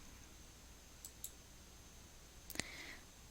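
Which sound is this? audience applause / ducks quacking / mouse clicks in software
mouse clicks in software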